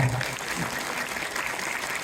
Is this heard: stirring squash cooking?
no